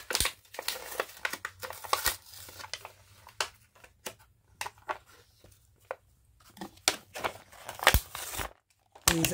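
Eraser packaging being opened by hand for pencil-top erasers, giving a run of sharp crinkling, crushing and tearing bursts in irregular bursts, close and moderately loud, with no talk.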